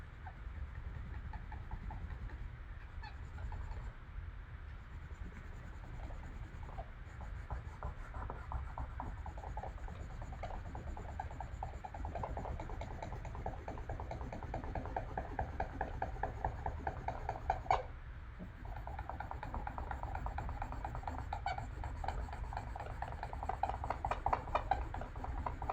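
Paper is rubbed by hand to lift a Citra Solv solvent image transfer, giving a steady, faint scratchy friction with short repeated strokes and brief pauses over a low hum.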